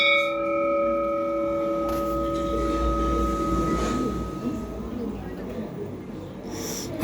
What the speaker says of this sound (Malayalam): ബെല്ല് കൊടുത്തത് കേട്ടില്ലേ?